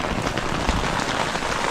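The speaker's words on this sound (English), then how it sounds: "Okay, it's raining, right?" Steady rain falls outside a property under an awning, a dense, continuous hiss of drops spattering nearby with no voices.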